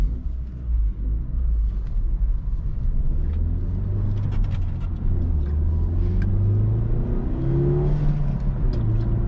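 A Peugeot 308 GTi 1.6 turbo, 197 hp, revs up and pulls through gears, its rising drone climbing and swelling, with a low rumble throughout and no talking.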